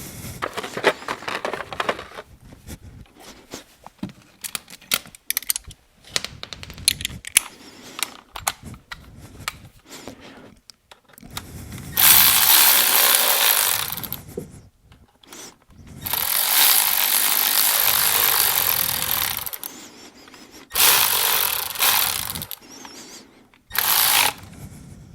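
Torx T30 bolts on the camshaft cover of a GM Ecotec 1.4L turbo engine are run down with a power driver in several bursts of whirring of a few seconds each, with clicks and handling noises between them.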